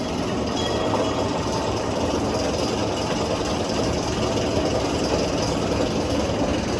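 A roller coaster train at Six Flags Fiesta Texas rolls in with a steady, dense mechanical rumble and rushing noise that holds evenly throughout, close and fairly loud, with no voices.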